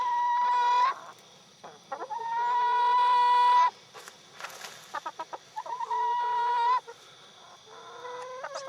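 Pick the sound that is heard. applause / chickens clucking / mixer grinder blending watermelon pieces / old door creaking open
chickens clucking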